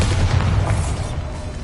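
Bombarda spell explosion in Hogwarts Legacy, a loud, deep booming blast with rumbling low end that fills the moment and slowly fades.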